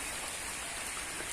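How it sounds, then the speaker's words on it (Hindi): Heavy rain pours down in a dense, steady hiss of drops striking surfaces, heard alone and fairly soft. "बारिश बहुत तेज हो रही है"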